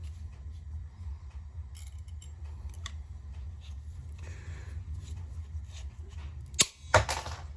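Clamping pliers cutting through material after being set tighter, heard as two sharp, close snaps near the end over a low background hum, with a few faint clicks before them.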